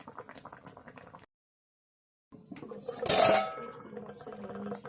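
Water poured into a cooking pot of spiced goat mutton with chili paste, a short splashing, sizzling burst after a moment of silence, with faint utensil clatter around it.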